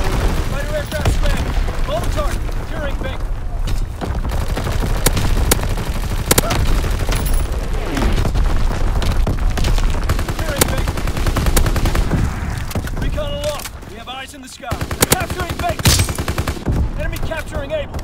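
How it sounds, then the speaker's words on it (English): Fighter aircraft strafing a target with gunfire in Call of Duty WWII on the Shipment 1944 map in domination mode, loud rapid bursts mixed with constant rifle and machine-gun fire and explosions, announcer voice lines heard over the battle. "Fighter pilot inbound. Strafing the target."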